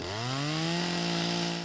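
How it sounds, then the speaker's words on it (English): A chainsaw cuts into the ice sheet covering a small pond on a snowy morning in Rhode Island, its engine note rising then holding at a steady whine, moderately distant with no voices. "They used a chainsaw to break through the sheet of ice covering the pond."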